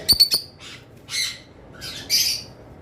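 Albino lutino Fischer's lovebirds calling up close: a quick run of three sharp chirps, then several harsh, raspy squawks spaced out over a few seconds, with no voices.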